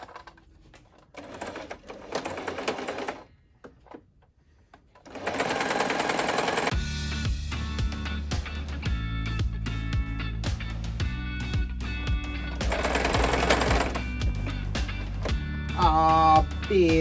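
A sewing machine stitches the waistband of an underskirt, running in several fast rattling bursts separated by pauses, close and loud, with a longer continuous run in the second half.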